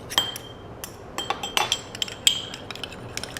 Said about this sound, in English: use a little squeeze of lemon, just a little bit there to flavour the mayonnaise, and then give that a mix up